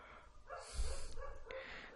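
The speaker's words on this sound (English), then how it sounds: "There's a lot of dogs barking" Street dogs bark at night, a few barks and yips rising over a background hum, moderately close and with no talking.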